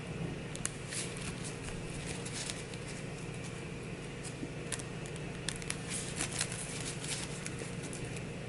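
Cards for the Arkham Horror card game scenario The Unspeakable Oath are shuffled at close range in a quiet room, a soft continuous riffling patter with faint ticks.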